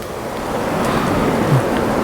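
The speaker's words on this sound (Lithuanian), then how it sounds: "Čia va už mūsų Atlanto vandenynas." Atlantic Ocean surf and wind at a campsite on the Portuguese coast, a steady broadband roar of breaking waves and gusting air that holds level throughout, with no voices.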